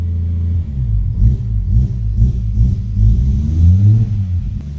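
Nissan R32 GTR engine running at a loud, close idle with a pulsing low rumble, its pitch rising and falling through a few light revs as the throttle is held, no voices present.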